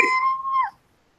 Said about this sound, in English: Sounds like a kitten.